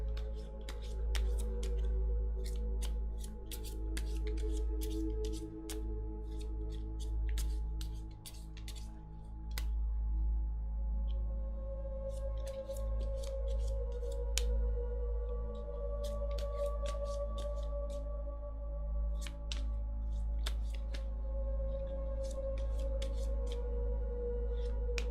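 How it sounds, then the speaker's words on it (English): Tarot cards are shuffled over and over with quick papery riffles and taps, the rapid bursts running throughout over a steady low hum and soft background music. "Okay, one more shuffle."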